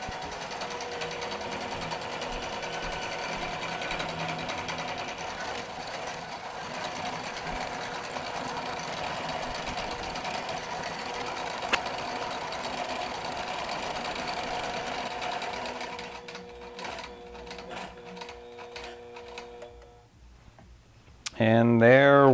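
A QBOT V3 quilting machine stitches an edge-to-edge nesting design, giving a steady, close mechanical hum with rapid needle ticking that runs evenly, then slows and stops near the end.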